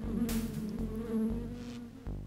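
A magical bee swarm spell buzzing in the Land of Lore video game, a dense insect drone lasting the whole moment, loud and close, with short bursts of spell effects at the start and near the end.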